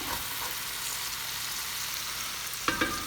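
Cajun shrimp sauce bubbles and sizzles in a pan with a steady, fairly quiet hiss, broken near the end by a couple of brief clinks and stirring scrapes.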